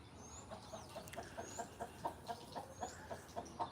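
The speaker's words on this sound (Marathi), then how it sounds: "मला वाटतं ही कोंबडी आहे आणि कोंबडीनं जस्ट आत्ताच अंडं घालून कोंबडी बाजूला आलेली आहे" A hen clucks after laying an egg, in a steady run of short, evenly spaced calls, fairly faint against a quiet background.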